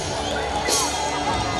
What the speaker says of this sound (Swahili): Piga makofi mengi kwa rais wetu